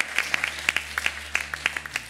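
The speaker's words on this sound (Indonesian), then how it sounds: "Tepuk tangan buat Allah kita." Scattered hand clapping from a small church congregation during a sermon, a couple of seconds of uneven claps over a low steady hum.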